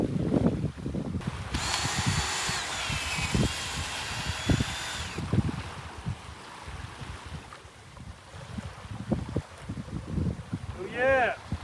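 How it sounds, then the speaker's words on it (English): A power drill whines for several seconds, pitch shifting as it bites into fruit, while people chat around it before and after. "so I'm just gonna do it with a drill."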